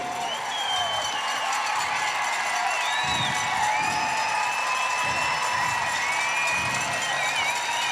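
Crowd at the finish of a race cheering a runner home, continuous whoops and shouts with scattered applause, whistles and rising voices carrying over a steady open-air murmur.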